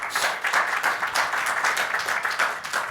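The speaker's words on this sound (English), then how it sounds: "Round of applause for our speaker." An audience at a tech conference talk gives a round of applause to the speaker, a dense, steady wash of many hands clapping close and loud for about three seconds.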